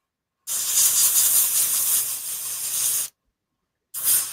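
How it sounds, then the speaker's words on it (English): A spray can hisses onto a taped-off custom joint in two steady bursts, one long and close, then a short one after a brief pause. "So tape it off, give it another spray, see how it handles it this time."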